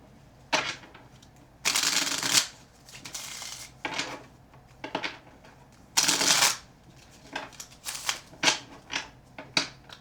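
Bursts of tarot cards being shuffled close up, several riffles and softer shuffles with short pauses in between, no talking.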